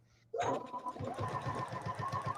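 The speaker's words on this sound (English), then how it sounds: "I am sewing up my rows" A sewing machine starts up and runs steadily, stitching rows of a Christmas table runner quilt with a quick, even mechanical chatter, close and alone.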